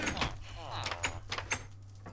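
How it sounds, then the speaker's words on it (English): A villager opens a wooden door in Minecraft with a creaking swing and a few clunky knocks, close and brief, while a voice talks faintly over it. "Guys open doors."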